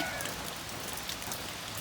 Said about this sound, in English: I don't know how well you can tell from the video, but it is raining.